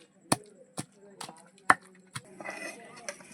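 A stone mortar pounds roti pachadi chutney, giving sharp, hard thuds spaced roughly half a second apart. They are close and distinct, with a softer scraping rustle toward the end.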